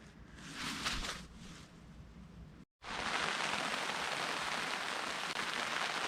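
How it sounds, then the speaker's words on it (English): Steady rain pours down by a canal, a dense continuous hiss that briefly cuts out and then returns even heavier and closer. "And it's raining."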